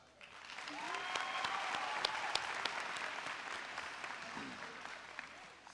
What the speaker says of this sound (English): Let's give another round of applause from our class.